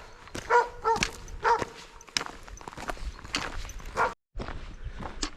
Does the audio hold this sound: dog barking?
yes